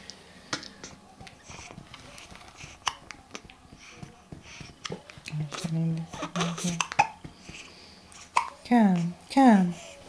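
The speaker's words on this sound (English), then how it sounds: "has hiccups again." A baby hiccups: small, abrupt catches spaced through the stretch, close and soft, with a voice and adult speech overlapping toward the end.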